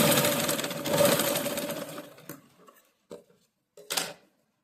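A sewing machine stitches the back neck of a blouse, a close, steady whirring run that fades out, followed by a few short bursts, with no voices.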